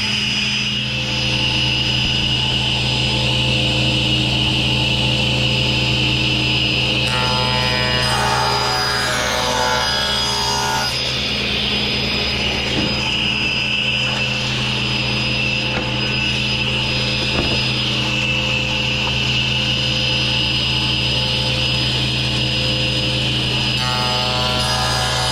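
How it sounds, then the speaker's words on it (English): A panel saw with a scoring blade runs continuously at a loud, steady drone, with a rougher cutting texture rising through the middle as it passes through a wooden board. "We'll put that knob forward and turn the machine on. Now we'll turn it back and turn the score blade on."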